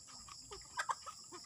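Native chickens on an organic farm in the Philippines cluck in short, scattered bursts, with a couple of louder clucks in the middle.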